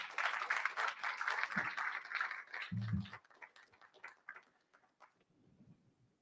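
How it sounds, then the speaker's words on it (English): An audience at a book discussion gives a round of applause as a token of appreciation is presented, the clapping filling the first few seconds and then thinning into scattered claps and fading. "Let's first present this token of appreciation to Prakash Pillai with your round of applause."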